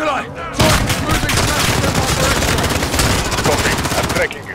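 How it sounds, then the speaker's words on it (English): Rapid automatic gunfire from Call of Duty: Modern Warfare (2019) during a pursuit mission, loud dense bursts of shots rattling almost continuously for several seconds after a brief quiet start. "The gunshots, of course."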